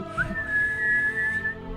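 A single clear, steady whistle holds one high pitch for over a second after a brief rising start, with no talking.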